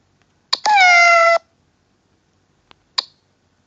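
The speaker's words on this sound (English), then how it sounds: "Kitten." A kitten gives one clear, drawn-out meow of under a second, close and alone, framed by a few short clicks before and after.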